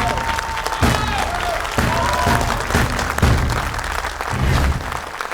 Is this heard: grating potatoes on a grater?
no